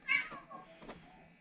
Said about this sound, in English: that's my cat behind me meowing